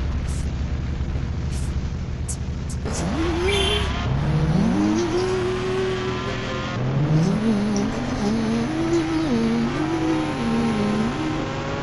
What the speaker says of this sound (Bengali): বাইক আসছে